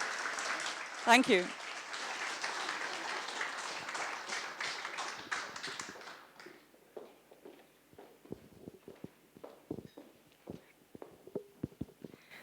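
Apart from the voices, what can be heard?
audience applause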